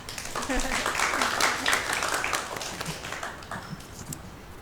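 An audience at a school orchestra event applauds a graduating student, a steady patter of clapping with some voices under it that gradually thins and fades.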